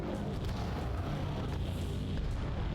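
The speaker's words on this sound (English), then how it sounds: "the sound effects of explosions are delightful" Rumbling explosions in the Crossfire Legion strategy game, a dense continuous barrage of booms and blasts, loud and heavy throughout with no pauses.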